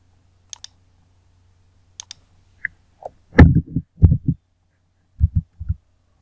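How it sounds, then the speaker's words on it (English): A computer keyboard shortcut, Ctrl S, pressed while saving a Power BI Desktop report, giving a few sharp clicks and taps close to the mic, with several soft thumps following in a quiet room. "So I'll click Ctrl S."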